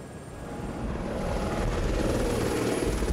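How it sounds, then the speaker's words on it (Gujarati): A helicopter ride over the Statue of Unity beside the Narmada river: a steady, loud rotor and engine drone from inside the cabin, swelling slightly, with no voices. "મળ્યો હું કનકભાઈને અને એ મને લઈ ગયા હેલિકોપ્ટર રાઈડમાં."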